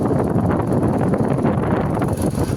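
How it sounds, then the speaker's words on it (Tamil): Strong gusts of cold wind on Vayalur Road buffet and roar across the microphone, continuous and rough, with no voices. "குளிர்காற்று வீசுது."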